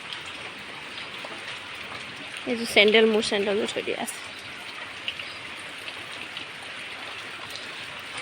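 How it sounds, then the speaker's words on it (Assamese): Light, steady rain hisses in the background throughout, with a person briefly speaking partway through. "এতিয়া অলপ সৰুকৈ দি আছে বৰষুণটো"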